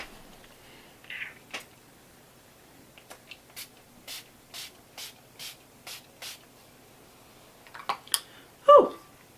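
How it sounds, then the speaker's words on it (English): A run of short, regular aerosol bursts of makeup setting spray onto a face, about eight quick hisses evenly spaced, close and fairly quiet, ending with a louder rustle. "I'm just going to spray that all over my face."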